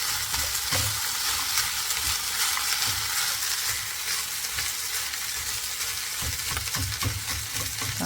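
Leftover plain rice frying in a pan with a spice tempering, a steady hiss of oil sizzling under repeated scraping stirs of a spoon, close and fairly loud, with no voices.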